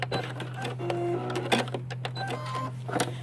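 A sewing machine stitches down a concealed zipper on fabric, a steady close mechanical whir with rapid needle chatter and a few sharp clicks, running alone without talk.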